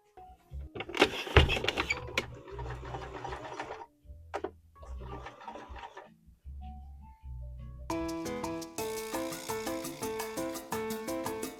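A sewing machine stitches black bias tape onto a hooded cloak. A few short bursts of stitching and handling thumps come first, then a close, steady run of rapid mechanical needle clatter with no speech.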